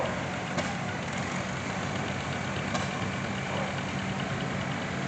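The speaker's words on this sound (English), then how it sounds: "Here comes one, got the GM diesel, but it's a 3-cylinder, 1959" A 1959 three-cylinder GM diesel tractor rolls by in a steam and gas association parade, giving a steady, even engine rumble mixed with broad outdoor noise, with no voices over it.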